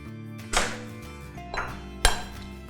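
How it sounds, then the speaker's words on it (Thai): Eggs cracked against a large bowl while making a thick bacon omelette give three sharp clinking taps, spaced about a second apart, close and clear over a quiet kitchen background. "เราก็เริ่มจากตอกไข่นะคะลงไปใน โบที่ใหญ่ขึ้นมาหน่อยนะคะ"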